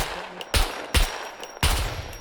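Gunfire in the survival game SCUM: three loud, separate shots ring out about half a second apart, each with a booming low tail, alone without talk.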